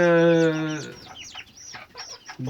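A Gurk hen gives a long, drawn-out squawking call, then breaks into a run of short, choppy clucks nearby, with another call starting at the end.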